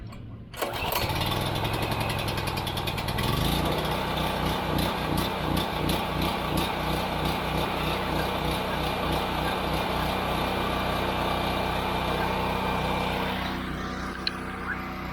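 Portable non-inverter generator starting on a single pull with choke on, catching almost at once and settling into a loud, steady, close engine drone with a rhythmic pulse, running alone throughout.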